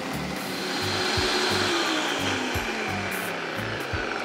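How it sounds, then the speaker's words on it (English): A powerful, fast blender whirs steadily as it purées a vegan cream sauce of water or vegetable stock with softened onions and garlic, a continuous close-up drone with a rhythmic low pulsing throughout. "You actually have to make sure you've got quite a powerful blender going on."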